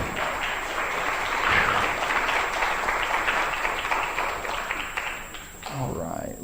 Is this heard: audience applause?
yes